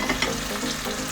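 Four medium chopped onions sizzle and fry steadily in a pan for an Achari Baingan dish, a continuous dense crackle with a stirring scrape close by and no talk.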